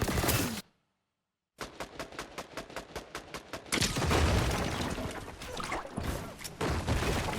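Rapid burst of gunfire in Fortnite: a loud, regular volley of about a dozen evenly spaced shots after a short silence, followed by heavier blasts and dense chaotic firing.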